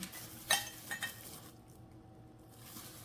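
Two large rice-cooking pots, unpacked from a parcel, give a few faint, brief clinks near the start before the sound fades to a quiet room hum.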